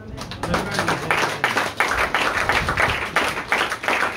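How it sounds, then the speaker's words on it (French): A church congregation applauds a pastor with brisk, lively clapping from many hands, loud and close, with slightly rhythmic pulses running throughout and some voices mixed in. "Est-ce qu'on peut applaudir ce pasteur?"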